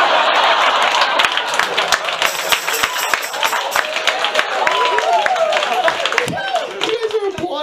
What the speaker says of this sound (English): You guys are applauding my failure.